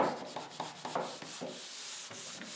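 Brisk, rhythmic scratchy rubbing of sandpaper over drywall mud covering nails, close and fairly quiet, with repeated short strokes.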